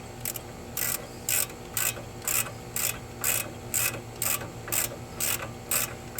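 A ratchet wrench clicks in steady, evenly spaced bursts while loosening a bolt on a 2011-2019 Ford Explorer knuckle bracket, fairly close against a faint background hum.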